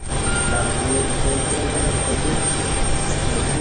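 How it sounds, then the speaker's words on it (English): An airplane flies overhead as a steady, loud broadband engine roar that holds evenly for several seconds with no clear rise or fall, dominating the scene. "I saw a plane."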